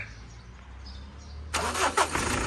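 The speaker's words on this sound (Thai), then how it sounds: "สตาร์ทเครื่องดูดิ" A Mitsubishi Strada pickup, a non-turbo model, cranks briefly and then catches, its engine settling into a steady, fairly loud idle close by, with no talking over it.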